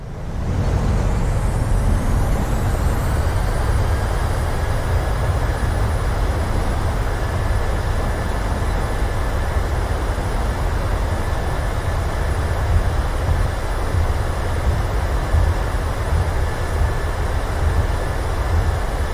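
Boeing 737 engines in full reverse thrust on landing in a flight simulator: a loud, steady, broadband roar with a faint high whine, unbroken and close for the whole stretch.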